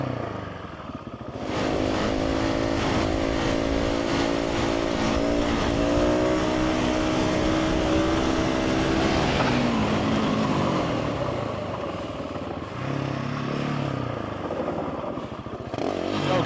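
A KTM 690 SMC R supermoto revs hard as it is ridden, its loud single-cylinder engine climbing through rising and falling pitches, then easing off near the end.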